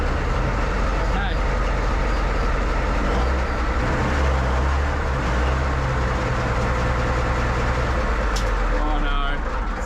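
A Soviet T-34 tank's engine runs as a loud, continuous deep rumble with heavy low-end drone, holding steady and close for the whole stretch.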